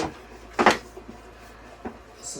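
An office desk drawer slides open with one quick, close scraping rumble, followed by a couple of faint knocks in an otherwise quiet room.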